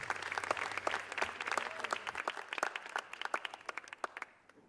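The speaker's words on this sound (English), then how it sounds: "Please give a round of applause for Harsima." Audience applause after a TEDx youth talk introduction, a dense burst of clapping at moderate distance that thins into scattered claps and fades out near the end.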